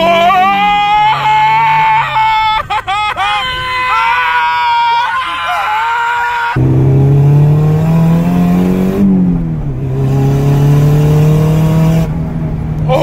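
A Nissan SR20-powered car with a divorced downpipe and equal length manifold revs and pulls in rising and falling engine tones, loud and close from inside, with people excitedly talking and shouting throughout.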